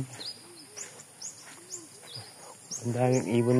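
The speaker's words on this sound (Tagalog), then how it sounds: "Ang daming ibon na. Ito. Maingay." Many birds call and chirp along a mountain trail, repeated short whistles through the stretch, with a louder bird or voice-like harmonic burst near the end; a person's voice is faintly present.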